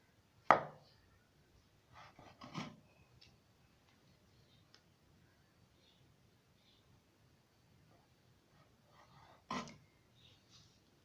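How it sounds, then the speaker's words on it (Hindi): A knife trims the crusts from bread slices on a cutting board in a home kitchen, giving a few sparse, quiet taps and soft scraping strokes separated by long near-silent gaps. "ब्रेड के स्लाइसिस हमें चाहिए 3 अदद। सबसे पहले हम इसके किनारे हटा लेंगे।"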